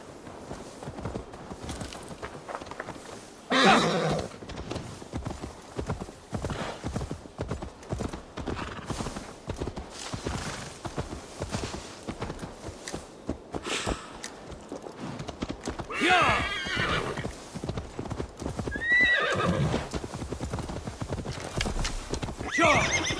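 Steady clip-clop of horse hooves at a walking pace in Assassin's Creed Valhalla, with a couple of neighs and whinnies rising over the rhythmic footfalls.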